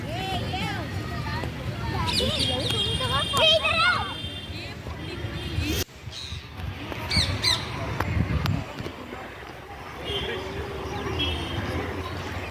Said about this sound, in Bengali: আর কিন্তু প্রচুর পাখি, মানে বিশেষ করে টিয়া পাখি